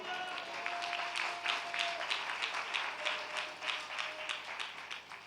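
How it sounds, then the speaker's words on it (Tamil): A church congregation claps during a Sunday service. Loose, somewhat rhythmic hand claps form a dense, moderately loud wash, with a faint sustained tone underneath. "கைத்தட்டுங்க பார்க்கலாம், நல்லா கைத்தட்டுங்க பார்க்கலாம்"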